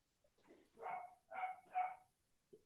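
A dog barks three times in quick succession, faint and somewhat distant, followed by a short final yip.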